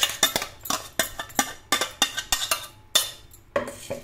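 A metal spoon repeatedly presses and scrapes pomegranate seeds and pulp against a strainer over a bowl, making a quick irregular series of close, bright clinks and scrapes.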